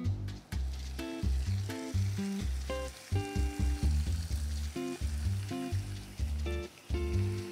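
A pork chop laid one side down into hot oil with spices for a tomato tom yum dish, giving a steady sizzle under loud, melodic background music throughout.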